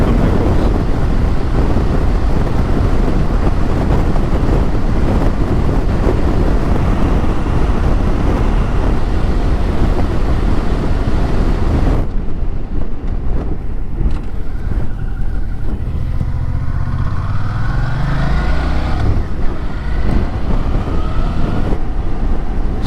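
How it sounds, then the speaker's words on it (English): Wind roars hard across the microphone while riding a Suzuki V-Strom 650 motorcycle, a loud, constant buffeting rush that eases slightly partway through, with faint engine drone beneath. "it's not even a very windy day, but I can really feel that wind coming across."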